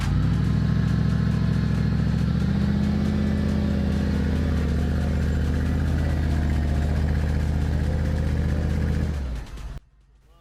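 A Mercedes G-500 6x6 Brabus engine roars loud and steady as it climbs offroad, its deep drone rising slightly before cutting off abruptly near the end.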